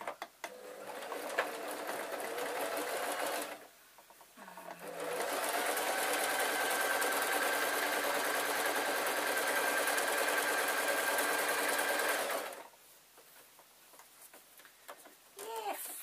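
Sewing machine stitching a hedgehog tote bag in two runs of rapid whirring, the first about three seconds long, the second longer, separated and followed by quiet gaps.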